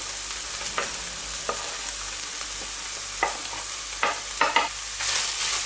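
Food sizzling steadily in a hot pan, with a few scraping stirs of a utensil against the pan.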